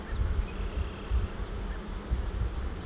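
Honeybees buzz steadily around four beehives, a dense low droning hum that swells and fades slightly as the insects fly close by, with no talk.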